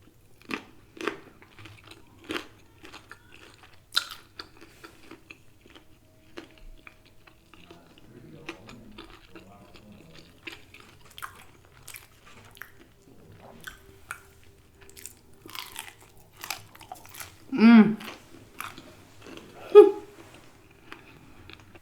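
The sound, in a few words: biting and chewing Popeyes chicken sandwich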